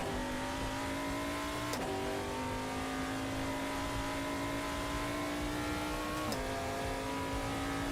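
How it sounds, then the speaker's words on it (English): URD LMP3 race car engine in a racing video game, a loud, steady high-revving drone with two quick gear-shift breaks where the pitch drops and climbs again. "I replaced the sound of this car with the URD LMP3 car"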